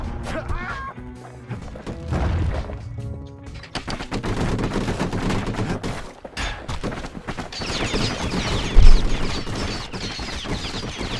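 The galleon mortar fires in the action game Bastion, a steady stream of loud, close percussive blasts and crashes with a heavy thump near the end, layered over game music.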